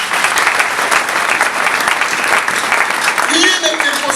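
A church congregation applauding during a worship service, dense sustained clapping close and loud for the whole stretch, with voices mixed in.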